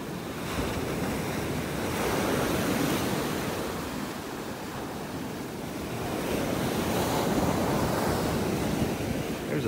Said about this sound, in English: Way up on the beach and the waves are getting me way up here.